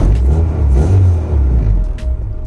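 A car engine idles while running very rich, a close, loud, rough low rumble with an uneven, lumpy pulse that surges slightly and then settles.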